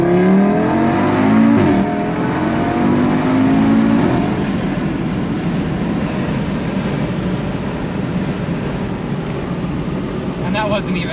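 Audi RS3 engine pulls hard with a rising rev sweep, a quick drop at a gear change, then another climb and a steady drone, heard from inside the car with brief talk over it.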